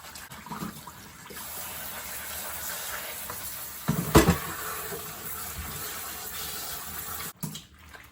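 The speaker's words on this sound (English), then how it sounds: "I'm going to wash them first with cold water, not" Baby bok choy is washed under cold running water, giving a steady tap-like rush with a brief louder splash in the middle, close and alone.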